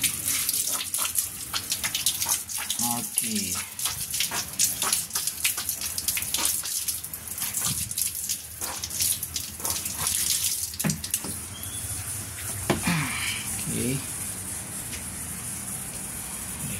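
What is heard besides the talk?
water running from a tap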